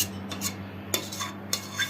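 A spoon spreads cooked, blended apricot puree made without sugar or starch for fruit leather, giving soft close scrapes and a few light metallic clinks with no talking.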